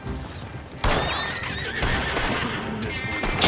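A horse in Red Dead Redemption 2 Online gives a loud, close whinny followed by clip-clopping hooves, over game ambience with a faint voice in the background.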